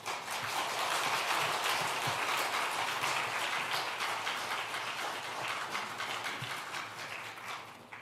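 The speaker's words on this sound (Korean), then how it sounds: "우리 나오실 때 박수로 좀 환영해 주시겠습니까?" A congregation at a Sunday afternoon Baptist church worship service claps steadily to welcome a speaker to the front, a dense sustained patter that tapers off toward the end.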